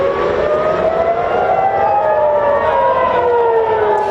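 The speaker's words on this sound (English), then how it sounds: "In Israel, sirens are sending residents to seek shelter as Iran retaliates with missiles and drones" Loud wailing air raid sirens in Israel during an Iranian missile and drone attack rise and fall steadily, with several overlapping tones sustained throughout and no voices.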